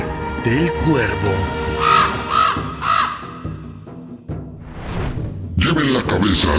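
Crows caw repeatedly as a sound effect in a Maya underworld story, harsh rhythmic calls rising and falling under and between a narrator's spoken voice.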